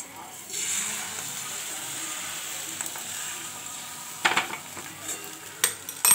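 Beaten egg is poured into a hot pan for an omelette and sizzles steadily with a bright hiss. A few clinks of a utensil against the pan sound near the end.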